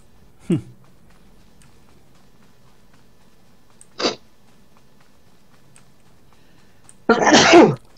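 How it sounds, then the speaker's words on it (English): A single loud, sharp sneeze bursts out close to the mic during a Star Wars: The Old Republic gaming session, with other short bursts of noise in the otherwise quiet room. "Bless you. Sorry about that."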